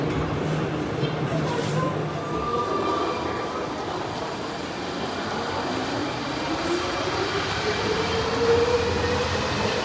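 A metro train arriving at Porta Nuova station in Turin, heard from on board as a steady rolling rumble with rising and falling wheel and motor tones and faint squeals, continuous and fairly loud.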